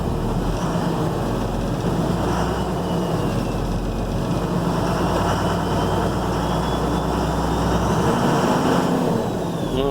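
A 2007 Ford F750 truck with a 5.9 Cummins turbo diesel running after an injector replacement, a steady loud engine drone with a faint turbo whine throughout, heard up close and without talk.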